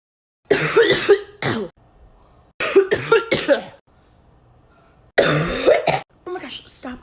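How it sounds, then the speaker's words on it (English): A person coughs in several harsh, repeated bursts spread across a few seconds, close to the microphone, with gaps of quiet between them and people talking around the coughs. "Oh my gosh, stop coughing."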